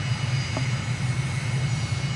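An airplane engine in a flight simulator game drones steadily with a low, constant hum and a faint high whine, loud and unbroken, with no voices.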